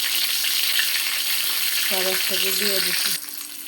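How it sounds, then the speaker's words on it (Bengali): Whole spices (cardamom, cinnamon, bay leaf, dried chillies, peppercorns and cloves) fry in hot oil with a constant bright sizzle, while a voice speaks briefly partway through over the hiss. "এলাচি, দারচিনি, তেজপাতা, দেখছো নি বন্ধুরা, শুকনো মরিচ, আবার গোলমরিচও আছে, ও লবঙ্গ, সব একসাথে দিয়ে দিচ্ছি"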